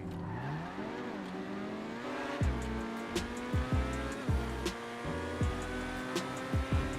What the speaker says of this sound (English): My personal favorite sports car is the Italy GTO.